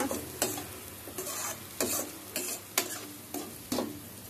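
Mixed ingredients fry in a pan with a low sizzle, punctuated by about six distinct stirring scrapes at a steady, unhurried pace, close and fairly quiet.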